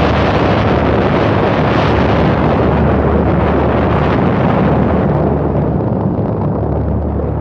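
Documentary sound effect of the atomic bomb exploding over Hiroshima, heard as a loud, continuous, rumbling roar of blast noise that holds steady throughout, with no voices.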